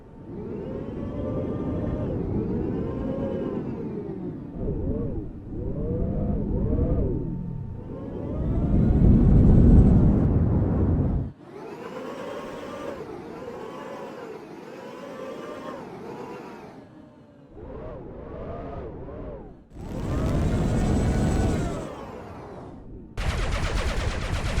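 Muffled sounds inside spaceships in a Roblox video game come through as a series of dull, bass-heavy rumbling bursts and whooshes, with the upper frequencies dampened. Brief brighter blasts break in near the end.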